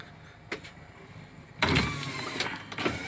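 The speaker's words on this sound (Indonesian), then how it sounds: "ini untuk power windows kiri ya kiri depan kiri belakang" Power windows of a newly bought car running on the left side, front and rear: a short faint whir near 0.5 s, then a louder sustained motor hum from about 1.6 s to the end, heard close inside the cabin.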